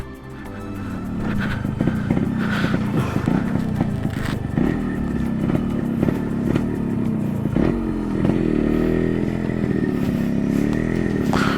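Lightweight motorcycle riding through mud on a forest trail, its engine droning and revving unevenly with clattering and scraping, close and steady throughout.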